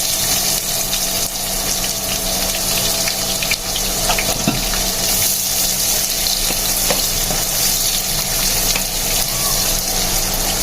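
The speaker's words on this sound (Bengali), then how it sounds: "পেঁয়াজটাকে এখন লাল লাল করে ভেজে নিব।" Onions frying in hot oil with whole garam masala spices for a pigeon-squab bhuna, a steady close sizzle with occasional stirring scrapes running continuously, no talking.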